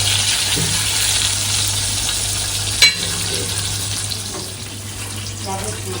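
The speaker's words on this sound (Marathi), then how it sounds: "मोडवशा माशाला आता पलटी मारली छान क्रिस्पी झालेला दिसतंय तसंच आपण आता सुद्धा परतून घेतोय" Modusha fish frying in a pan as it is turned, making a loud, constant close-up sizzle with one sharp clank of the turner partway through.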